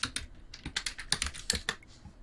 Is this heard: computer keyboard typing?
yes